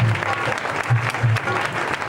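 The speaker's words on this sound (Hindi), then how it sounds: "आइए जोरदार ताली बजाएं, ताली बजाएं" An audience at a religious discourse claps steadily together, a broad continuous wash of applause that holds at an even level throughout, with faint voices mixed beneath it.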